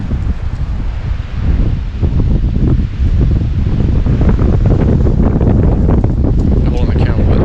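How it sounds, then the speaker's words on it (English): Strong gusting wind buffeting the microphone, a loud continuous roar with rustling throughout. "it's pretty windy"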